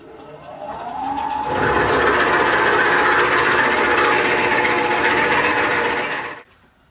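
A Forstner bit bores into a wooden bowl on a lathe, with a steady, loud grinding and whirring cut that holds for several seconds before stopping abruptly.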